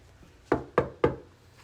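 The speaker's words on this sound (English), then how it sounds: "As Naruto hears a knock at his door." Three evenly spaced, solid knocks on a door, close and distinct, against a quiet background with no speech.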